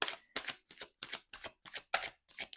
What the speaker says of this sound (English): let's shuffle for the zodiac sign